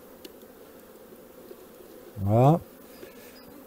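Honeybees in a queen-rearing nucleus hive give off a brief, loud, rising buzz lasting about half a second. The sound sits over quiet background hum, and a short spoken word comes just before it.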